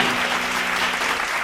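A church congregation at a Tamil Sunday service claps in steady, dense applause that fills the room throughout.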